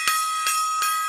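Three separate bell strikes ring out alone, evenly spaced, each a bright metallic tone with a quick attack and a short decaying shimmer.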